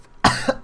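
A person gives a harsh, close-up cough in two quick bursts, loud and sudden, with nothing else around it.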